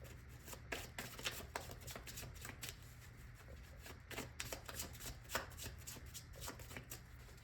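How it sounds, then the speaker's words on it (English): Tarot cards handled and spilling: continuous soft papery shuffling and flicking, with short crisp slaps of cards dropping, quiet and close over a low steady hum. "your cards are just dropping everywhere"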